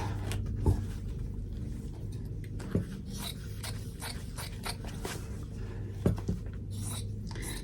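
Scissors cutting fabric for an in-the-hoop zipper bag, heard as repeated scraping snips and rustles with a few sharp clicks, close and moderately quiet, without speech.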